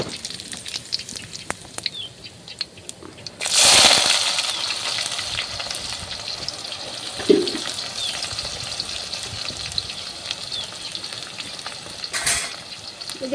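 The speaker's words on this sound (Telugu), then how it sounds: "నూనె అయితే వేడైంది. ఇప్పుడు జీలకర్ర ఆవాలు వేస్తున్నా." Cumin, mustard seeds and curry leaves dropped into hot oil burst into a loud sizzle, then keep up a steady frying crackle with a few sharp pops and a brief clink, with no talking.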